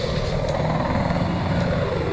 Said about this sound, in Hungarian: Mögötted a repcsi.